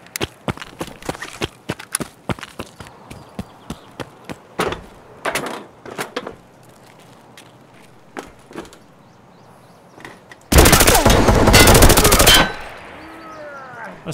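M4 rifle fire in the video game Escape from Tarkov: scattered sharp single cracks and footsteps, then a loud, dense automatic burst lasting about two seconds before a quieter tail.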